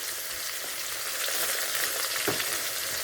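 Tomatoes sizzling in a pan as the base for a Filipino anchovy dish, kinamatisang dilis, a steady soft crackle of frying with no voices.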